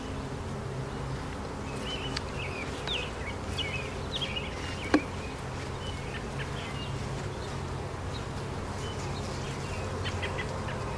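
Honeybees buzz steadily around an open hive frame heavy with brood, a dense close hum with scattered individual flybys passing near and one sharp click partway through.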